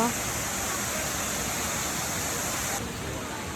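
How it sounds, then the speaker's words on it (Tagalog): Waterfall at Hinulugang Taktak in Antipolo, Rizal, a steady broadband rush of falling water that stays constant and fairly close throughout, with no break in the roar. "Yung waterfalls dyan."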